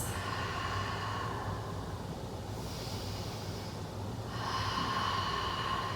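Slow, steady breathing of a yoga practitioner holding a hip-opening stretch, with long airy inhales and exhales close to the microphone and no talking.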